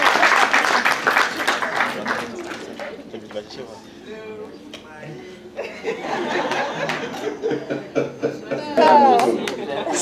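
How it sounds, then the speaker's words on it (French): Audience applause after a film screening, a burst of clapping with laughter and chatter mixed in, fading and then swelling again while people talk throughout. "On l'accompagne avec vos applaudissements"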